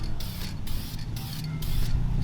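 Aerosol spray paint hissing onto brake calipers as they are coated white, in short rhythmic bursts with brief pauses, close and steady over low background rumble.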